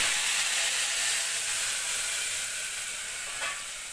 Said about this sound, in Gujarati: હવે અત્યારે વઘાર કરી અને શાક બનાવવાનું છે.